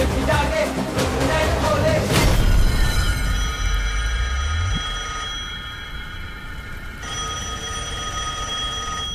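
A telephone bell rings out amid a dense, noisy scene, sharp metallic ringing layered over rumbling low sounds and a falling sweep, then settles into a sustained bright tonal ring that continues under quieter background.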